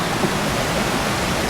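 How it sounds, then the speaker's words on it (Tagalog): A river flowing, heard as a steady, broad rushing wash of water without any break. "May nakita na naman tayong ilog guys, oh."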